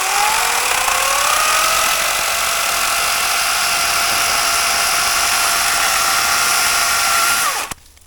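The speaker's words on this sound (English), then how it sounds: "You don't want to forget that this is still a chainsaw." Wild Badger electric chainsaw running at a steady high-pitched whine, loud and close, holding constant for several seconds before winding down abruptly at the end, with no talk.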